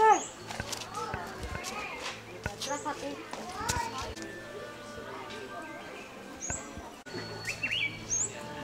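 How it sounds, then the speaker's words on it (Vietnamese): Birds chirp and tweet repeatedly at a hillside temple in Lục Ngạn during the Lunar New Year, with clear, close calls, while people talk nearby. "Chim ơi."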